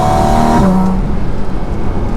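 Porsche 718 Cayman GT4 RS Weissach flat-six engine roaring loud and close through its intake, a rising howl that peaks and then settles into a steady, rough drone with no talking.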